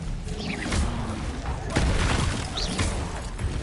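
The Expelliarmus disarming spell cast in Hogwarts Legacy, heard as a loud burst of booming, crashing impacts amid continuous game action, with a second blast partway through.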